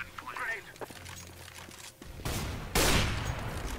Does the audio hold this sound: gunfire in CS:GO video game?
yes